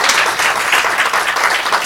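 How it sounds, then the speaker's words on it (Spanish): A church congregation applauds in a steady, dense wash of clapping that fills the whole short stretch at full volume, with no voices rising above it. "Denle un aplauso al Señor."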